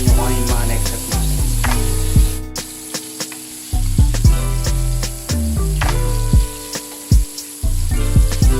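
Breaded chicken breasts frying in oil, a loud continuous sizzle over a strong rhythmic mechanical rattle with tonal hum, cutting out briefly around the middle; no talk.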